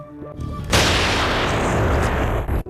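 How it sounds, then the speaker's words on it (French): A gunshot from the Fight Club scene where the narrator shoots himself, a sudden loud blast after a quiet musical lead-in, followed by a sustained roaring tail that cuts off abruptly. "Le moment du coup de feu."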